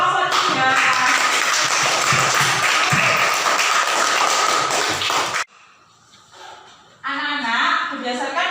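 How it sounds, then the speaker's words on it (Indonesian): A burst of lively clapping from a group of schoolchildren fills a classroom for several seconds, then stops, followed by a few spoken voices. "kita beri tepuk tangan untuk kelompok 3."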